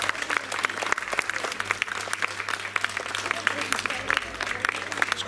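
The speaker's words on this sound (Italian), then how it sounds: "A Pietro Palumbo, che accogliamo ovviamente con un grosso applauso." An audience breaks into sustained applause to welcome a guest before a comedy performance, dense clapping from many hands with an amplified voice heard faintly underneath.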